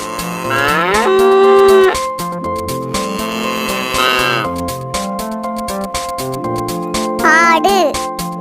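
Cattle moo in long, drawn-out calls over cheerful children's music, one loud moo early and another midway, with a brief higher call near the end.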